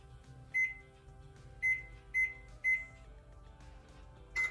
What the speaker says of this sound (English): I'm gonna preheat the oven to 350.